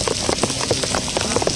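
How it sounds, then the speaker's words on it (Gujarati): Steady rain falls outdoors in a continuous wash of patter, with brief denser bursts of drops and a faint low engine-like rumble beneath. "વરસાદ આવે અત્યારે"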